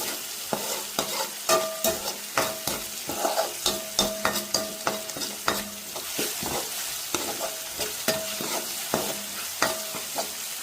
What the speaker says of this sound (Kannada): ಟೊಮೊಟೊನ ಸ್ವಲ್ಪ ಮೆಲ್ಟ್ ಆಗೋವರೆಗೂ ಫ್ರೈ ಮಾಡಬೇಕು